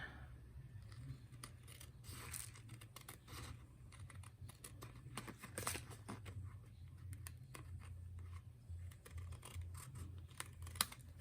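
Scissors trimming paper for a handmade zoo globe shaker card make quiet, close, repeated crisp snips and small paper rustles in an otherwise still room.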